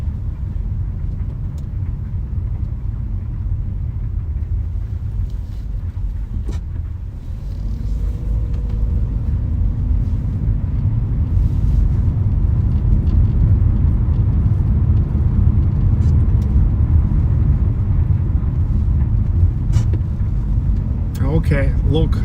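A car driving at night through wintry Vyborg, Russia, gives a continuous low engine and road rumble close inside the cabin, steady throughout with occasional small knocks.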